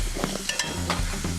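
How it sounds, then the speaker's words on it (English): Mushrooms hit hot oil in a saute pan on a kitchen stove, giving a close, steady sizzle broken by a few scraping stirs and soft clatters over about a second and a half. "We're gonna leave the oil in there and we're gonna add our mushrooms"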